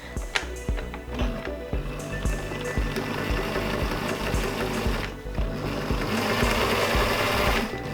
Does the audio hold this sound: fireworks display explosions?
no